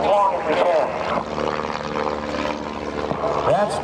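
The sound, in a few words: airplane flying aerobatics at an airshow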